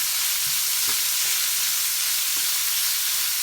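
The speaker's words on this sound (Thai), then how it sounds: "ผัดแบบตามใจฉันเนาะ" Mixed greens with tofu and Chinese cabbage being stir-fried in a pan, giving a steady broadband sizzle with a few faint scrapes of the utensil and no talking.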